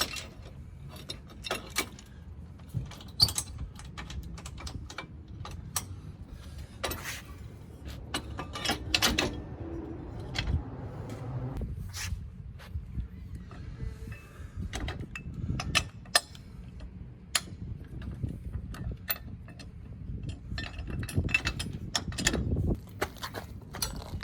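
A Proven Industries trailer hitch lock is fitted and secured, a series of close metallic clicks, clanks and ratcheting knocks at irregular intervals with no talking.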